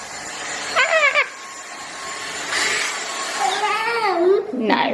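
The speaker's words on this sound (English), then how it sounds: "Oh, Nanny's hoovering me up." A household vacuum cleaner hums steadily at close range while a small child babbles and squeals over it, and an adult voice joins briefly.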